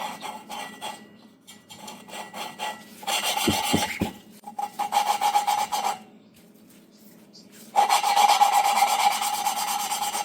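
Gritty rasping and grinding strokes as a generator engine valve is lapped into its seat with grinding compound, in uneven bursts, stopping briefly between passes, close and fairly loud with no talking.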